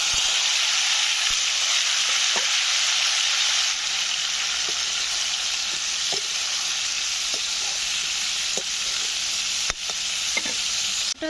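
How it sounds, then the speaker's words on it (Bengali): Pumpkin pieces fry in hot oil with a steady, loud, close sizzle throughout, broken by occasional light clicks of stirring; no one speaks. "এতে আমি আরও একটু তেল দিয়ে দিলাম কুমড়োগুলো ভাজার জন্য"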